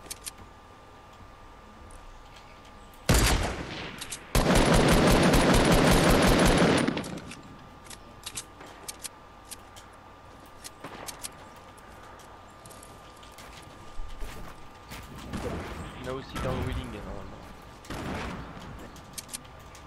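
Loud gunfire in Fortnite Battle Royale: a sharp single burst, then a sustained automatic volley lasting a couple of seconds, followed by scattered quieter shots and clicks over a low background.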